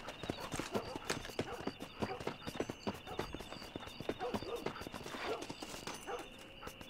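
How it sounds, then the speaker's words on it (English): In Red Dead Redemption on PC, a horse's hooves clop in a brisk, even rhythm close by and fairly faint, with ambient town sound around and a dog briefly heard. "Oh, it's a horse. I thought there was footsteps near me."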